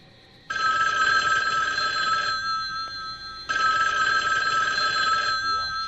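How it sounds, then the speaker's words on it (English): Telephone ringing for an incoming call, two long loud electronic rings separated by a short pause, close and clear with nothing else over it. "it sounds like we're getting a phone call here"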